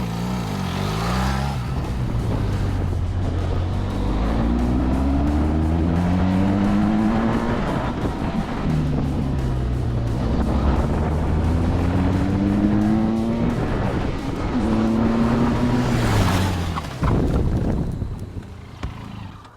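A Benelli TRK 500 motorcycle laps the Motor-Land Dziekanów track, its engine revving hard and rising through the gears again and again, loud and close throughout, with no voices.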